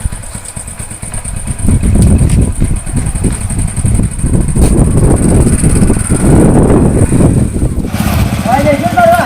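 A motorbike engine runs loud and close with a steady, gritty rumble that swells slightly partway through, with voices talking over it.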